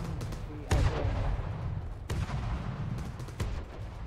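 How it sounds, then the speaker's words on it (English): A missile strikes a vehicle in a combat video game, a sudden booming impact followed by further sharp explosive bursts against a steady rumbling engine-like background. "missile hit on the outrunner"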